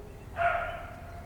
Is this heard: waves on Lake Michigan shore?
no